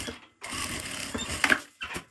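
A sewing machine stitches a pocket lining on a phone-holder wallet, running in two short whirring bursts separated by brief pauses, moderately loud and close.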